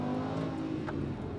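A Lamborghini Huracan accelerates on a race circuit, its engine a steady, loud, close harmonic drone with a rising pitch across a short burst.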